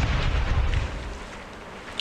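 A deep explosive boom in Last Day on Earth: Survival video game rumbles loudly at the start, then fades into a low, lingering roar.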